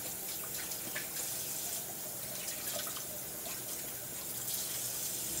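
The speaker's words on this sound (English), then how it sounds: "Go ahead and rinse it off real good." An onion is rinsed under a running kitchen tap: a soft, steady stream of water splashes and patters with slight shifts as it is turned under the flow, fairly quiet and without talk.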